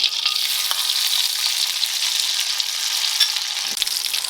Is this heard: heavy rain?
no